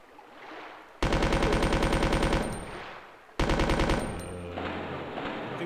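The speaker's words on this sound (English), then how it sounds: "Machine gun would not take more bullets than the regular pistol, but okay." A machine gun fires in Resident Evil 2 in two long, rapid, loud bursts of evenly spaced shots. A short pause separates them, and the second burst trails into a fading echo.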